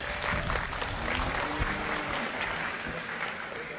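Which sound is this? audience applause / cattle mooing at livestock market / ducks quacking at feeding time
audience applause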